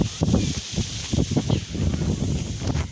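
Cold wind gusts across an outdoor spot near a madrasa, buffeting the microphone with rumbling low-end bursts and rustling leaves in uneven surges, loud and close with no clear talking.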